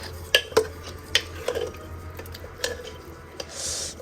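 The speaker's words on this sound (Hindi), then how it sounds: "अब इसको हम अच्छे से मिक्स कर देते हैं" A spoon stirs and mixes food in a home kitchen pot, making several clinks and scrapes against the metal with a wet, sloshing undertone, close by and moderately loud.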